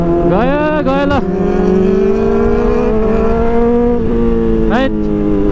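Sharp throttle blips from a superbike, among a BMW S1000RR, CBR 600RR and Ducatis, open the sound, then the engine settles into a sustained near roar before another quick rev burst.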